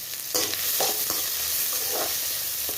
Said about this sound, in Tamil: இப்போ இந்த வெங்காயத்தை வந்து நல்லா மிக்ஸ் பண்ணி விடுவோம்